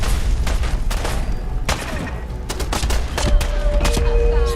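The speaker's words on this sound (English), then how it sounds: "The fucking grenades are awful." Grenades going off during Fallout 4 combat, heard as a string of sharp, loud blasts and bursts scattered across the moment, with a steady tone sounding near the end.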